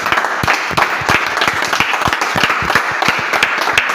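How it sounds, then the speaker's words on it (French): A church congregation claps together in worship, loud, dense, rhythmic applause with sharp individual hand claps carrying through the whole stretch. "Acclamons pour le Seigneur Jésus."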